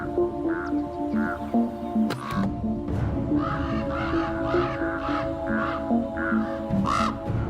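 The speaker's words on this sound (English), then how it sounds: "you can hear Mama and Daddy Raven are not very happy" Two adult ravens caw repeatedly near their nest of chicks in the wild of Yellowstone, harsh calls fairly close over a steady background hum, with no speech.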